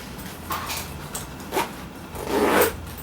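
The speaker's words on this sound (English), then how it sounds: "So then we'll zip this up." A zipper is pulled closed on a packed baby hospital bag in a few short, raspy strokes, close and clear with no talking.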